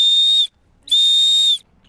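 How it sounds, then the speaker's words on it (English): Two long, piercing blasts from a search and rescue whistle, close and loud, separated by a short silence. "The search and rescue guy will give you 2 whistle blows."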